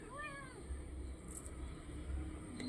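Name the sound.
kitten meowing, fussing for candy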